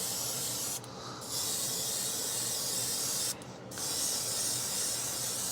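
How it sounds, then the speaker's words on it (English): A spray gun hisses in two long bursts separated by short pauses while painting a Star Wars shuttle model kit, over a continuous rushing whoosh of spray booth extraction airflow. "the paste spray booth is just sucking all the stuff up"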